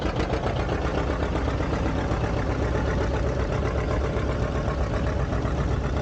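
A 1958 John Deere 820 tractor, a 76-horsepower, 10,500-pound machine, rumbles steadily at a parade with a loud, even engine drone.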